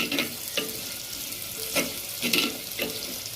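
Two medium chopped onions sizzle in hot oil with popped mustard seeds and cumin in a pan for a brinjal and black-eyed pea kulambu: a steady close frying hiss broken by several scraping stirs.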